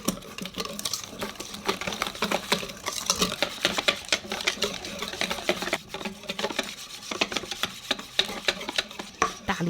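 A soy milk mooncake filling mixture with sugar and condensed milk is stirred vigorously in a bowl, giving a continuous fast scraping and swishing rhythm that stays fairly quiet and steady throughout, with no voices.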